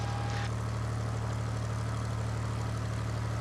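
A propeller airplane taxis along a soft field airstrip, its engine droning at a steady low idle with a continuous propeller hum, close and constant with no voices.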